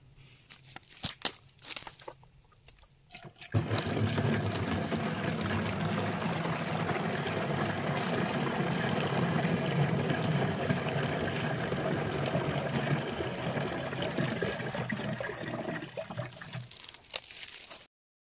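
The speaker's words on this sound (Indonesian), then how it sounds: "isi 20 liter air ya. Kita masukkan ke dalam jerigen yang belum ada isi airnya." Water gushes steadily into an empty plastic jerrycan while mixing a 20-litre batch for oil palm fertilizing, a loud continuous pouring stream lasting about twelve seconds after a few faint handling clicks, then tapering off.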